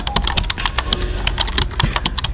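Fast clattering keystrokes on a computer keyboard, close and fairly loud, in a continuous burst of uneven clicks.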